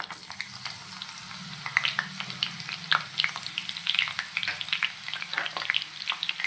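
Dried red chillies sizzle in hot oil for a Tamil Nadu-style amaranth leaf pulusu, with a steady close frying hiss broken by frequent sharp crackles and pops throughout.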